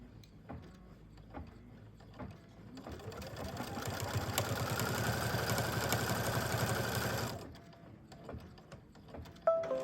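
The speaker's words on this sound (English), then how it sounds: "then we'll stitch that down" A sewing machine stitches fabric for an Easter pillow, starting a few seconds in with a steady, rapid mechanical whir for about four seconds before stopping, with quieter handling noises before and after.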